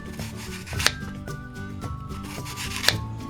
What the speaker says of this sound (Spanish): vamos a pasar a cortar las 3 manzanas que nos quedan en láminas de este grosor aproximadamente